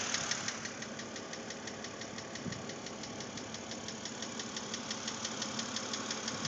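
A 2006 BMW Z4 3.0si engine runs with a steady, rapid metallic knock ticking over its idle, close and constant throughout with no talking.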